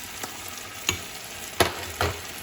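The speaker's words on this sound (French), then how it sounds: "Là, j'ajoute un peu d'eau." Pasta sauce in a pan for truffle pappardelle sizzles quietly as a little cooking water is added, with several short bursts of hiss and stirring scrapes, close and without talk.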